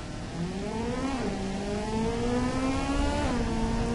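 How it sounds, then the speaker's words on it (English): Loud, continuous engine drone of a sports car in the game Automation, accelerating, pitch climbing through gear shifts with brief dips; no voices. "Let's listen to the engine."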